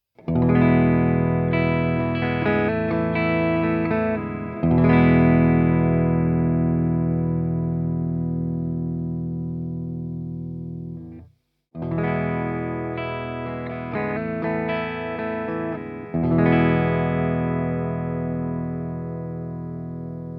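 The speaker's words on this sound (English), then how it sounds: "show you the difference of what changing the pickup sounds like" Distorted electric guitar on a Newmann GT40 plays the same chord phrases twice with a brief pause between, comparing pickups, the tone shifting slightly in the second pass.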